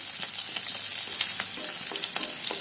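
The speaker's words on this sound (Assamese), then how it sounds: "তেল গৰম হোৱাত মই ইয়াত দিম পিঁয়াজটো মই অকণমান সৰুকৈ কাটি লৈছোঁ আৰু দিছোঁ দুটা কেঁচা জলকীয়া দি মই লৰাই দিছোঁ" Chopped onion and two green chilies frying in hot oil, a steady close sizzle with crackling pops and occasional stirring scrapes, loud and continuous with no voices.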